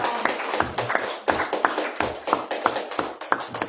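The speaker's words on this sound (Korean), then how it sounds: "그분들 고맙다는 박수 먼저 한번 드리죠" A church congregation applauds together, a fairly close patter of claps in an uneven but steady rhythm with no talk over it.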